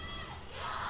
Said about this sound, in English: A huge groan from the crowd.